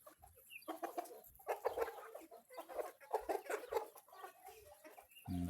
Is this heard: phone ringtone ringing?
no